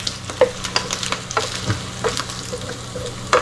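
Shrimp crackers sizzle and crackle in hot oil as a pan is stirred, a steady close frying hiss with scattered pops.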